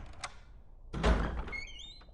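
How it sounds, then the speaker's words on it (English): A door opening in the Resident Evil remake video game: a short thunk, then a loud heavy creak and thud near the middle, followed by a fainter high metallic scrape. "I love the door opening thing."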